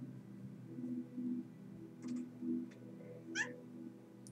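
A cat meows in The Walking Dead video game, a few drawn-out tonal meows close by and fairly quiet, followed by a sharper, higher cry near the end.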